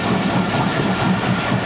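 The Karakoram Express pulls away from Kisan railway station, a steady, loud rolling rumble with soft rhythmic clicking of wheels on rail and no voices.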